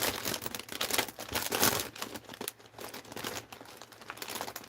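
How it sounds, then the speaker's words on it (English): Packaging crinkles and rustles close up in irregular bursts while someone rummages through it, with no talking. "Excuse the crinkling. Crinkle, crinkling."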